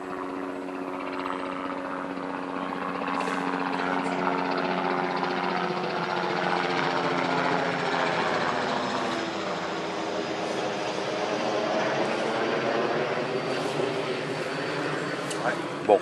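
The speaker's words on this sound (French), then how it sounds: "il vient de passer au-dessus de notre tête, l'hélico" A helicopter drones steadily overhead, its rotor hum swelling and slowly fading as it passes, with people talking quietly beneath it.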